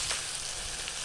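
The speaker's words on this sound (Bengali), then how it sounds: "গুঁড়ো মশলা যাতে পুড়ে না যায় সেই জন্য অল্প একটু জল দেব।" Ground turmeric, garam masala and other spices sizzle in a pan as a little water is added, a brief, steady hiss with no voices.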